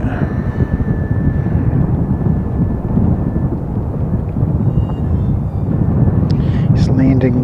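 An airplane landing on a runway, its broad engine roar loud and steady throughout and close enough to fill the scene, with faint outdoor noise on top.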